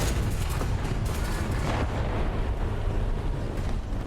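Shell impact on a tank during a War Thunder ground battle, with a Panzer IV F2 involved: a continuous loud rumbling barrage of booming blasts and debris-like noise filling the whole stretch, with no talk.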